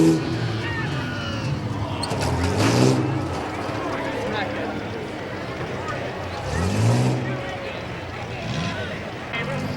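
A rough truck racing down the back stretch at a Tuscarawas County rough truck event, its engine roaring continuously and swelling in two loud pass-bys, under steady talk from an announcer.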